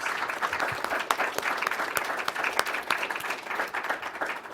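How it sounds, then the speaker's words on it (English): An audience applauds a panel at the close of an environmental review program, a sustained patter of many hands clapping with a few sharper individual claps standing out. "if we could give our panel a huge round of applause for today's program"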